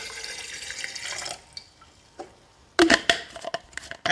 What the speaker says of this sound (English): So now I'll just put water there.